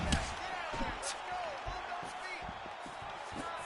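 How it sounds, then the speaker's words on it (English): A roaring arena crowd in a PS4 UFC fighting game surges steadily, with dull thuds of strikes landing through the noise and a low murmur underneath. "you hear the crowd react every time they come together because they understand the power that these guys are striking with"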